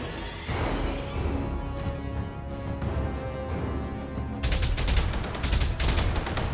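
Turrets firing in the BattleTech video game, a dense barrage of loud overlapping cannon shots and crashing impacts that swells again near the end, with no talking over it.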